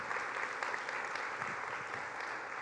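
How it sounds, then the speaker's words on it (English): An audience applauds at a talk on navigating change, with dense, steady clapping filling the room at an even level throughout, with no voices over it. "Can you give yourselves a round of applause for me,"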